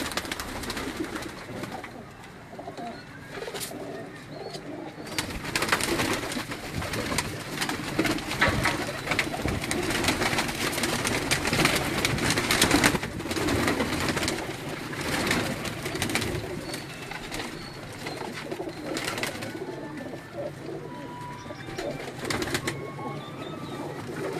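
Low cooing of Neel Dum breeder pigeons murmurs steadily beneath a busy, noisy background, moderately close, with no clear speech.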